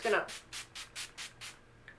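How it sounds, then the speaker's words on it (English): Makeup setting spray is spritzed over a finished light smoky eye look in a series of six or seven short, even hissing bursts, close up, after a brief louder rustle. "just a couple of spritzes"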